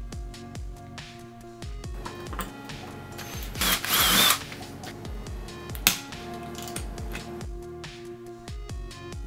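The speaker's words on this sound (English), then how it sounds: "you want to be careful when you're drilling through any of these, the front door." A power drill bores through the door of an old fridge in a run of short, whirring bursts with brief pauses, plus a louder, harsher stretch midway.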